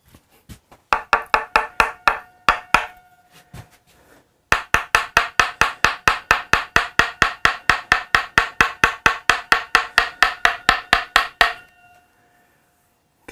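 A screwdriver strikes the nitrocellulose finish of a Gibson Les Paul guitar body in sharp, resonant knocks, a few scattered taps first, then a long fast rhythmic run of close, loud hits before stopping.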